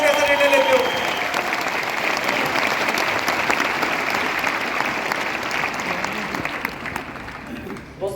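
Seminar audience in a hall applauding, loud dense clapping from many hands that holds steady for several seconds before fading out.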